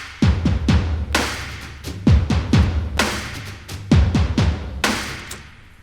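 An intro groove for a catchy commercial song, with battery drums adding low thumps and sharp claps. The punchy hits repeat in a steady looping rhythm, loud and alone with no voices.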